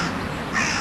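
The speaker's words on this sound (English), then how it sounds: "crow raven thing of death" A crow at a castle gives a single harsh, rasping caw, close and fairly loud, over a noisy outdoor background.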